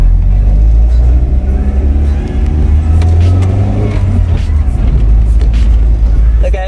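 A Caddy car on its first test drive, with a steady, loud low engine rumble and road noise throughout, the pitch rising and shifting slightly as it pulls along.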